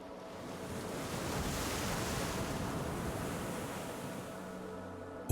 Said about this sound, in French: là où l'on n'entend que le bruissement des vagues